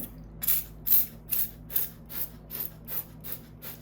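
A household cleaning spray bottle switched to foam mode is pumped about eight times in a steady rhythm, each squeeze giving a short, close, hissing spurt with brief pauses between.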